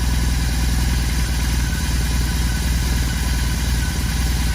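A BMW R 18 motorcycle idles steadily on a lift, its boxer engine close and loud with an even low throb and faint mechanical clatter throughout.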